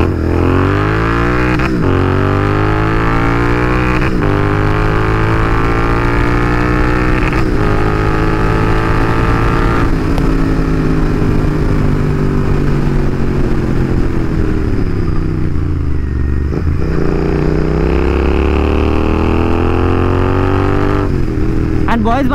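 A Royal Enfield motorcycle engine runs after a complete service on 10W50 fully synthetic oil, giving a loud, steady thumping drone that rises and falls with a few revs throughout, with no pauses.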